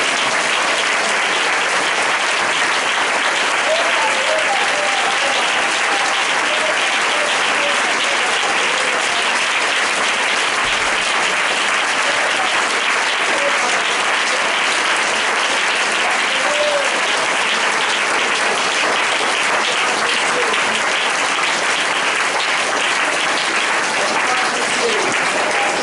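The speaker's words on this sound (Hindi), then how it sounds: "हमारे यीशु मसीह को, पवित्र आत्मा और पिता को जोरदार ताली बजाना चाहिए" Loud, sustained applause from a church congregation at a Hindi-language deliverance prayer meeting, dense clapping filling the whole stretch without a break.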